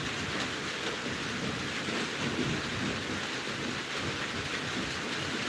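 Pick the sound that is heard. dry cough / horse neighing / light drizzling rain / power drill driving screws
light drizzling rain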